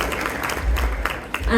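Dinner audience at an annual banquet applauding a keynote speaker being introduced, a brief burst of crowd clapping, fairly loud and dense, in a large indoor hall.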